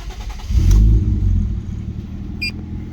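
A Mazda FC RX7 rotary engine, cold after sitting for years and fitted with a full stainless exhaust, revs up once in a loud, deep burst, then settles back to a rumbling idle close by.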